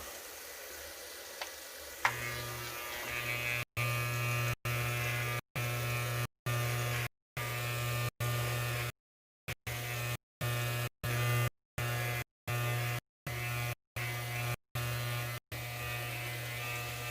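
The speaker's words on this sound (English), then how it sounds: "I don't really like shaving my head, Tyler." Electric razor shaving a head: a steady close buzzing hum runs almost the whole time, switching on after a couple of seconds and repeatedly cut by brief gaps, with no talk over it.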